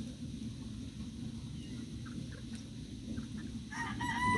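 Free-range brown-egg layer chickens clucking faintly over a low background rumble, with a louder rooster-like call rising near the end.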